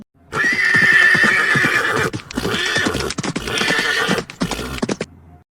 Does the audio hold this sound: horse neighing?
yes